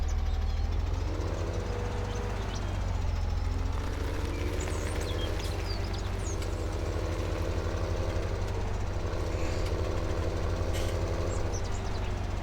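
A Massey Ferguson tractor engine running steadily in a farming simulator game, a continuous low droning rumble with no breaks, fairly quiet and alone.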